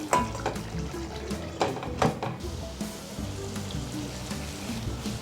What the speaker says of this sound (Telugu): మధ్య మధ్యలో కలుపుకుంటూ ఉడికించుకోండి